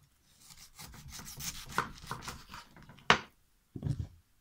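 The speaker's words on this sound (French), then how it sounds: "maintenant, je vais passer à la découpe de l'ananas" A knife cuts a pineapple in a series of irregular crunchy chops and rubbing strokes, close and fairly quiet, with short pauses between cuts and no talk.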